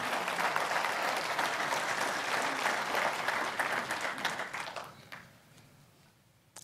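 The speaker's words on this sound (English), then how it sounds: "Let's give him a round of applause." Applause from a church congregation during a wedding ceremony, steady and full for about five seconds before thinning out and fading to quiet.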